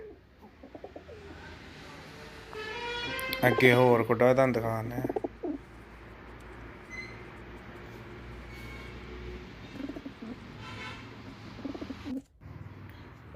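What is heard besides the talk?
Malwai pigeons cooing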